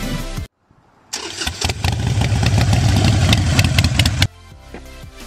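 A Euro Motor Samurai 155i motorcycle engine runs close to the microphone, starting after a brief gap and then holding a steady, loud mid-pitched rumble before dropping to a quieter idle near the end.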